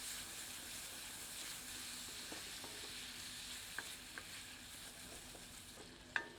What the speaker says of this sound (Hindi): तदुपरांत टमाटर सम्मिलित करते हैं। मिलाकर इन्हें भी कुछ क्षण भूनते हैं।